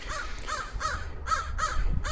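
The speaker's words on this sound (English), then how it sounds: "the crow up on the tree is singing or talking" Crow cawing from up in a tree, a run of about five loud, harsh calls in steady succession with nobody speaking.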